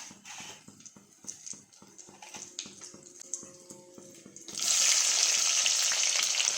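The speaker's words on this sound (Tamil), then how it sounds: "இப்போது எண்ணெய் நல்லா காஞ்சி பொரிஞ்சு வந்துருச்சு. இப்போ இது கூட நம்ம வெங்காயத்தை சேர்த்துடலாம்." Hot oil for a dry fish curry crackles with rapid rhythmic pops, then chopped onion drops in and a sudden loud, dense sizzle takes over and holds steadily; no one speaks.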